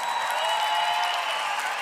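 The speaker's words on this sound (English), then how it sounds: "Everybody's cheering here." Arena crowd at Avicii Arena cheering and applauding, a dense, steady wash of clapping and voices sustained throughout, fairly loud and continuous with no single voice standing out.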